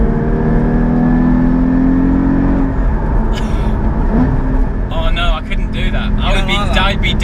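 A manual Porsche GT3 or GT4 engine in sport mode revving with automatic rev matching, a steady loud drone with sharp blips during gear changes, under someone talking.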